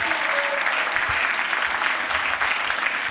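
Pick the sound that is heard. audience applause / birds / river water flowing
audience applause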